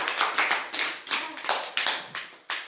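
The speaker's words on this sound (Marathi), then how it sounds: "शाबास, टाळ्या वाजवा सगळ्यांनी।" A group of children in a classroom clap their hands together in a quick, steady burst of about a dozen sharp claps, close and loud, with no talking.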